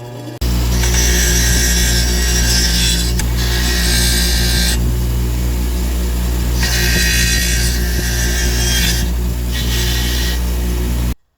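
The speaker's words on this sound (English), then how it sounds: "I'll do it on my grinder here with the wire wheel" A power grinder spins a wire wheel against snowblower engine metal in several long bursts, a harsh abrasive scraping over a constant motor hum, close and loud.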